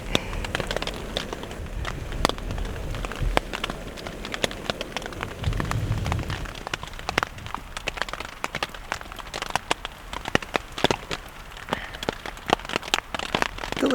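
Steady rain drums on a tent during a thunderstorm in Nevada's Ruby Mountains, a dense patter of close drops with sharper individual hits and a brief low rumble, with no talking.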